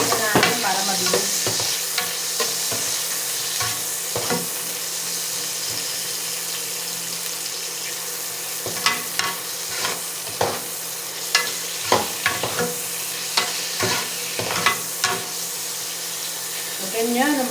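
Onions and tomatoes sauté in a pan for sayote with pork, with a constant sizzle and frequent clinks and scrapes of a utensil stirring, growing busier toward the end.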